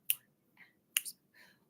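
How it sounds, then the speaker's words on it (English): Hands clapping a counted rhythm in a music lesson, two sharp close claps about a second apart, each followed by a softer, quieter clap. "Clap and count that."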